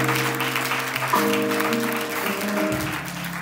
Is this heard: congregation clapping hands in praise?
yes